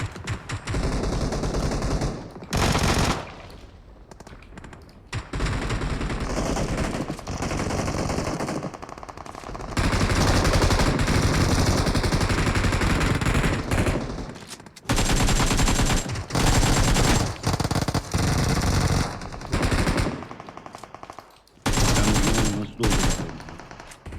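Sustained automatic gunfire in the mobile game PUBG Mobile, long loud bursts of rapid shots broken by short gaps, close and dominating throughout.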